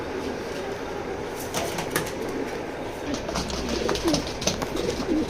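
Racing pigeons in a pigeon loft, soft repeated cooing calls rising over a murmur of background noise, with a few sharper bird sounds and rustles nearby.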